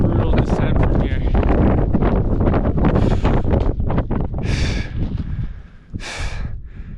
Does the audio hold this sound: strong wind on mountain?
yes